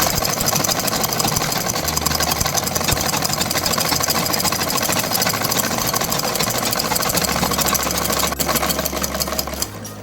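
Electric sewing machine stitching the sleeve hem of a kurta, a steady loud mechanical whir running continuously close by, its low hum shifting pitch a few times as the speed changes, easing off right at the end.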